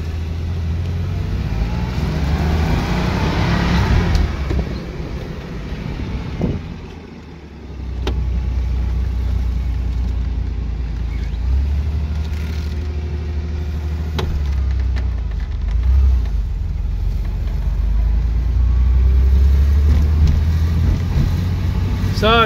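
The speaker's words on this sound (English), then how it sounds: "So it's obviously the perfect time to drive a Porsche like this." A Porsche engine runs steadily as the car drives, a continuous low rumble and road hum close by, with a brief dip midway before the drone swells again.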